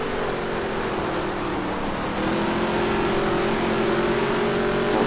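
Race car engine in the NASCAR Heat 3 video game on a dirt track, a loud continuous drone with steady revving that rises slightly partway through, close and unbroken.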